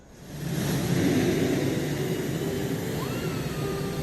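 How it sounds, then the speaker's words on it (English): In the Ace Combat 7 video game, a jet fighter takes off with a steady loud roar that swells in the first half second and holds as a broad rumble, with a rising whine partway through. "Right after takeoff, as the wheels retracted, the plane suddenly arced up."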